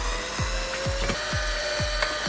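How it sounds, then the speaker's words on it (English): A wine bottle being opened with a corkscrew, a repeated squeaky twisting creak at a regular rhythm, about five turns, close and moderately loud with no talk. "opening up the wine"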